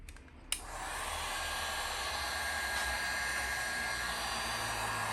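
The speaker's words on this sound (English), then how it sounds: "I'm just going to take a heat gun" A heat gun blows steadily on heat-shrink tubing slipped over a Honda CL70K3 motorcycle throttle cable, starting with a click and then a continuous close, loud airy roar with no talk.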